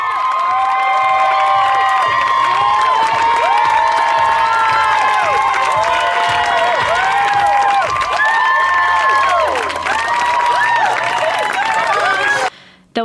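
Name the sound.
spectators cheering as cyclists arrive at Bruce Hall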